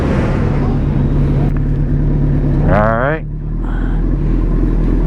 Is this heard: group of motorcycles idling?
yes